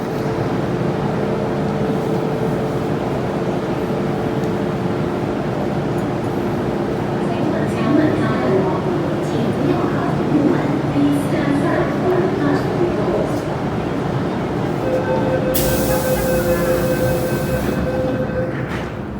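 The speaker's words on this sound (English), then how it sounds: "The train is already coming in" A subway train rumbles steadily into Sheung Wan Station with continuous rail noise, a high hiss of brakes near the end and faint background voices.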